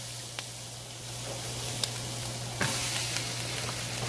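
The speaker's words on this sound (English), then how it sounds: "now it's time to drop the squash" Squash sizzles steadily in a hot pan for a Thanksgiving squash casserole, a continuous broadband frying hiss with a few sharper pops and a louder surge midway as more pieces go in, with no talk.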